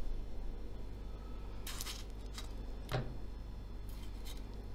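Pear-shaped tomatoes being chopped into small pieces for a pepper sauce, a few sharp knife strikes on a board spaced irregularly over a quiet background hum, no speech.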